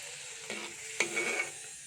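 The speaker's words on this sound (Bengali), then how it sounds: "তেল অনেক গরমে গেছে এর জন্য তাড়াতাড়ি পরোটা ফুলে যাচ্ছে" Paratha fries in very hot oil, giving a soft, close sizzle that swells in two brief bursts as the dough is moved.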